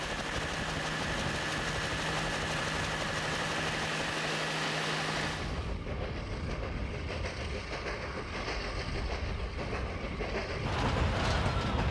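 A train built in the USA in 1922 runs steadily with a constant rumble and rattle, and a drone that fades partway through, in a continuous moderate wash of noise.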